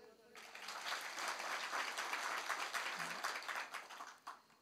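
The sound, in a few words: men in the audience clapping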